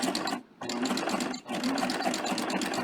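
A sewing machine fitted with a beading foot stitches fabric with beads at a lengthened stitch, a close rapid whirring chatter that stops briefly twice and then resumes.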